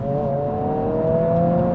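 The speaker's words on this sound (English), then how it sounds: "Try another rev match downshift." Engine of a 2026 Honda Civic Si revving during a rev-match downshift, a short, steady, loud tonal rise and hold with artificial induction noise heard from inside the car.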